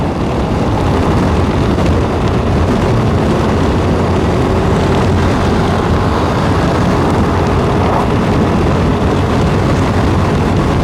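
A Suzuki Gixxer FI 155 motorcycle rides at speed near 100 kph, its engine drone mixed with heavy, constant wind roar that stays loud and dense throughout.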